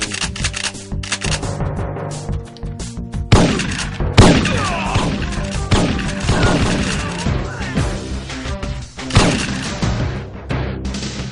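Rapid gunfire and explosive bursts from a shooter video game, dense and loud, with repeated volleys and sharp impacts layered over a continuous busy game soundtrack.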